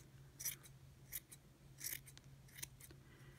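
Scissors snip repeatedly at a yarn pompom, trimming it round for a wreath; a handful of short, crisp cuts arrive at an uneven pace, close by and fairly quiet over a low steady hum.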